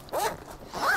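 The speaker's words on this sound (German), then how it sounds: "Wir haben hier einen schönen Reißverschluss eben" Zipper drawn along the storage cover of a gas heater for a greenhouse, two quick rasping pulls close by, with a short pause between them.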